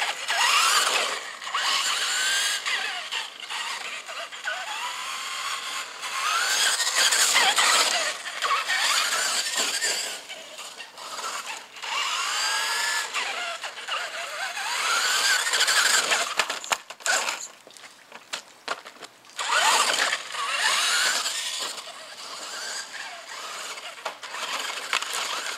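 An Axial Bomber RC crawler's electric motor whines in first gear at crawler speed, a high, steady buzzing squeal that rises and dips with throttle over a long stretch, close and loud.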